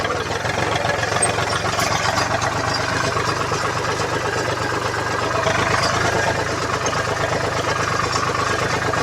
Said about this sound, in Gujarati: અત્યારે હવે જો ચાલુ કરીને ટ્રેક્ટર જવા દેવી